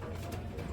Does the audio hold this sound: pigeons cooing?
yes